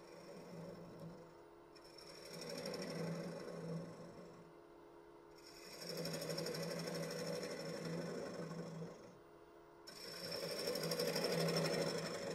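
A 1/2 inch bowl gouge shaves a thin wooden bowl on a spinning lathe. Three long passes of close, steady, rasping cutting swell and fade over the lathe's hum.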